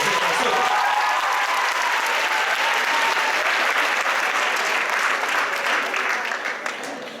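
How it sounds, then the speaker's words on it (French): An audience at a school head-shaving challenge event applauds steadily and loudly, a dense wash of clapping that holds for several seconds before starting to thin at the end. "Oui, on peut l'applaudir,"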